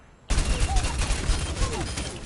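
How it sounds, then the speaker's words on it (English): Wrecking Ball's automatic assault weapons in Overwatch fire in a sustained rapid burst that starts abruptly and rattles on steadily to the end, loud and close. "Automatic assault weapons."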